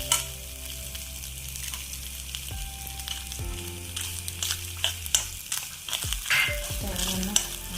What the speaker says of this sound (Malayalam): നെയ്യ് ചൂടായി തേങ്ങ ഇട്ട് കൊടുക്കാം കേട്ടോ